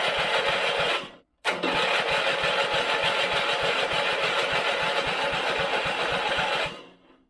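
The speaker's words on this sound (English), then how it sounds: "let's just hook it up to the battery pack and see if it cranks over" A 1970s ride-on mower engine cranks over with a fast, rhythmic chugging from the starter, stops briefly, then cranks steadily for several seconds before cutting off, heard up close without speech.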